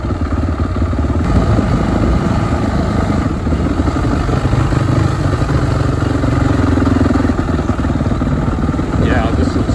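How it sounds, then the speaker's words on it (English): An ATV engine chugs steadily while pulling a rake along a rocky trail, a close, loud, rough mid-pitched drone with clattering over it, and a voice speaks under the engine noise. "Coming on his ATV, and he's pulling a rake that he's pulling"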